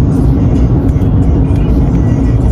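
Dense road traffic of many cars, a loud, close, continuous low rumble and engine drone with no distinct passes standing out, and a voice faintly present beneath it.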